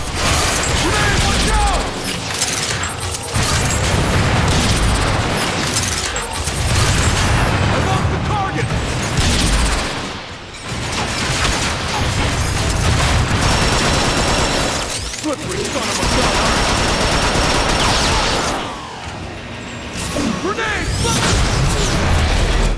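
Explosions and heavy weapon fire in the Transformers: Fall of Cybertron video game, dense loud blasts, crashes and mechanical clatter in bursts with brief lulls, under someone talking.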